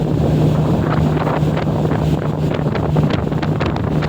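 Steady wind buffets the microphone on a boat crossing at sea from Port Balanacan to Dalahican, a loud continuous roar with a low engine hum and faint wave wash beneath, no voices.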